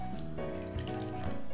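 Water is poured into concentrated tamarind for pad Thai sauce, giving a short, close trickle with a gurgle and a rising, filling tone.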